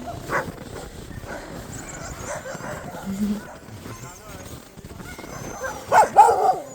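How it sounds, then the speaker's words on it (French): Sled dogs at a dog-sledding outing in Québec bark, yip and whimper intermittently at close to moderate distance, with louder excited barks near the end, while people talk over them throughout. "on a décidé de faire du chien de traîneau"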